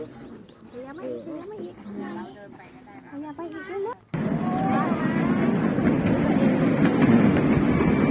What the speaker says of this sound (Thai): นั่งรถไฟกลับ